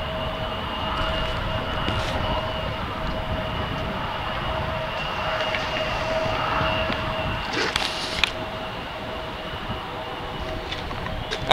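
A train rolls past near Tulsa International Airport, a steady, sustained rumble of railcars holding close and even throughout, with a constant tonal hum riding on top and a few brief clanks near the end.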